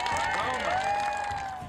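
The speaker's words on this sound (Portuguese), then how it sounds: "Palmas pra Wanda, bem forte, gente." An audience applauds and cheers for a contest winner at a regional cultural event in the Amazon, a steady crowd roar with whistles and shouts rising over the clapping.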